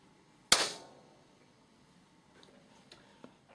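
A single sharp hand clap in an ordinary reverberant room, loud and close, its ring decaying over about half a second, followed by faint scattered ticks and knocks.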